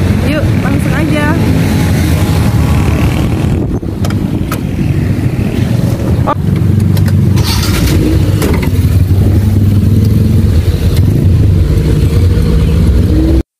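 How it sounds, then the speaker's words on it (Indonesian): A shared taxi (angkot) in Papua rumbles along with its engine droning and road noise filling the cabin. Speech runs beneath, with occasional knocks and rattles. "kita mau nyobain naik taksi ini"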